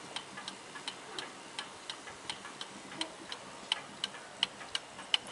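An 1881 Ansonia marble mantel clock ticks steadily up close, a regular string of crisp, light ticks against a quiet room.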